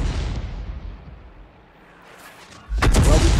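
An M37 self-propelled gun in a tank battle game booms as a heavy shot fades out, then after a brief lull another loud, close cannon blast erupts and rumbles on.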